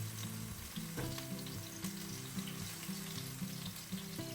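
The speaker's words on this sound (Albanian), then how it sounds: "në një tigan do të hedhim pak vaj dhe do të skuqim 2 deri në 3 qep të njomur" Two or three spring onions fry in oil in a pan, giving a continuous close sizzle with small pops and stirring scrapes, and no voices.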